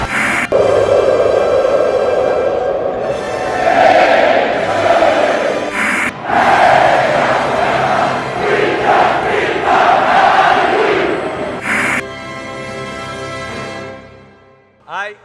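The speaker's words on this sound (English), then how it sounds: "Listen to the crowd at Bud Walton Arena." A large indoor college basketball crowd at Bud Walton Arena roars and cheers loudly and continuously, swelling in waves with an announcer's voice booming over the noise.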